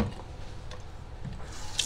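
Tap water running steadily while a bowl of sea moss is rinsed in a sink, a close, continuous splashing wash with small drips and sloshes throughout.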